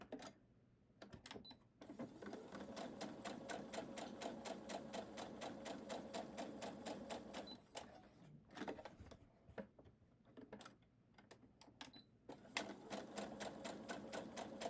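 Sewing machine stitching a scrappy postage-stamp pear quilt block, running in long steady rapid bursts with a brief stop and a few short pauses, close and clear.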